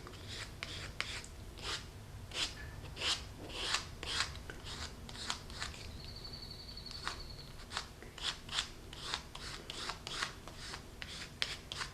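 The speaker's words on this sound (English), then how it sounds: "we're just going to paint, scrape it across in the margins" A paint chip is scraped across paper margins, making a run of rapid, dry, raspy strokes in a fairly even rhythm. Each stroke is quiet and close, with one brief faint tone partway through.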